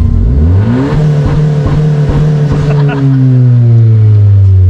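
An all-wheel-drive Honda Civic with a sequential dogbox transmission revs hard up to its rev limiter, a loud, close engine whose pitch climbs then stutters in rapid limiter bounces before easing off, with excited voices over it.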